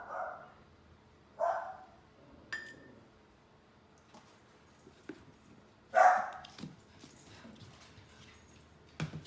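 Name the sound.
dog barking and whimpering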